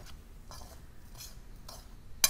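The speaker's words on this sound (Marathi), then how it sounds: "हे सर्व व्यवस्थित मिक्स करूया" Ladoo mixture with cardamom powder, nutmeg and fried raisins being mixed for traditional gond (edible gum) ladoo, giving soft, faint scraping strokes of a spoon in a bowl, repeated four times at a steady pace, ending in a sharper clink.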